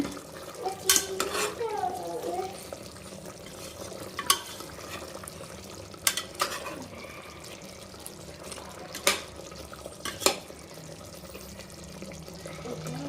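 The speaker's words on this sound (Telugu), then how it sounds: "ఒక సైడు చూద్దామా, చికెన్ ఉడుకుతుంది" Chicken for dum biryani cooks in a pot at home, with a soft steady simmer and sizzle under scattered metallic clinks and scrapes of a utensil against the vessel.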